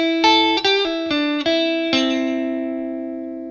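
Electric guitar playing a flashy traditional blues lick from a solo, a run of five sharply picked notes and bends that ends on a sustained ringing chord, clean and alone.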